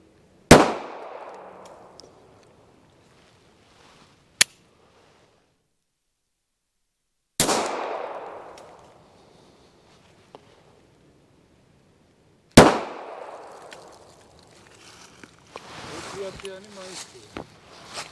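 A 7.65 mm P-30 mini pistol fires three sharp, loud shots several seconds apart, each with a ringing decay. A faint click falls between the first two shots, and brief faint sounds follow near the end.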